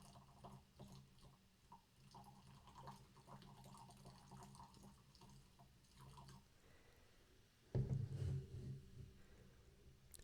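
Four Loko USA America-flavor malt drink is poured from high into a glass, a short splashing burst near the end after quiet drips and faint handling sounds.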